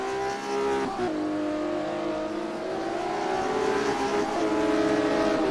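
A classic Porsche Cup race car engine in a sim racing game drones steadily at high revs, its pitch dipping and rising as the throttle is worked through corners, loud and continuous with no talk.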